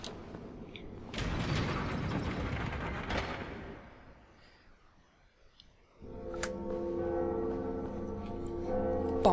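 Big bells ring in the video game Dark Souls, heavy metallic strikes with a long humming decay, a noisy rumble fading before a fresh peal swells with rich sustained tones.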